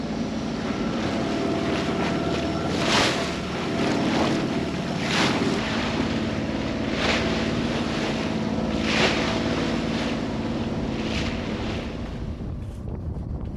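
A motorboat motors steadily across open water in cold wind, a constant loud rumble and wind buffeting with periodic splashing surges of waves against the hull, no voices.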